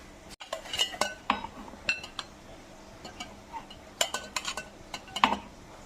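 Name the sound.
spooning coconut rice dough into a puttu mould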